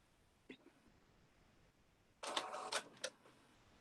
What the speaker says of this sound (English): That's my printer working.